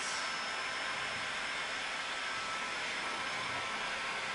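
A dryer blowing steadily over wet paint on a Valentine's tray, a continuous broad whooshing roar of air that stays even and loud throughout, with no talking.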